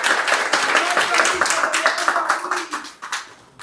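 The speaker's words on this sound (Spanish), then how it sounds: "Un aplauso." Applause from a Spanish-language morning TV studio audience, dense broadband clapping with talk mixed in, fading toward the end.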